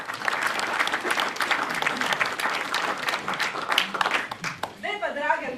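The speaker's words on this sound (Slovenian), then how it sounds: "Draga publika, dajte nam en aplavz." Lively audience applause at a folk singers' gathering in Kapele, with dense hand clapping filling the room, close and fairly loud, tapering toward the end as voices emerge.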